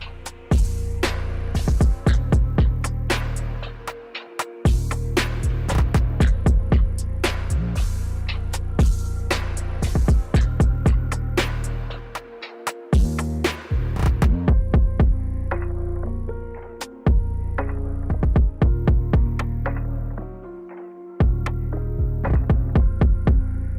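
Electric hair clippers fitted with a number 1 guard, lever open, run during a self-cut high fade, giving a loud, steady close-up buzz that stops briefly a few times, with scratchy contact noises throughout.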